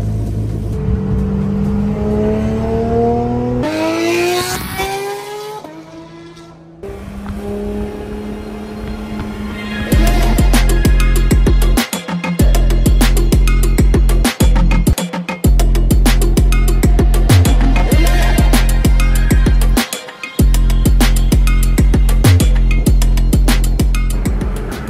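A Porsche 911 sweeps through a rising engine note and then accelerates hard from a roll, a loud, close, sustained roar with gear changes marked by brief dips, and heavy wind rumble throughout.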